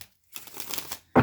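Tarot cards are shuffled by hand in a short riffling burst followed by a sharper snap as the deck comes together, close and alone.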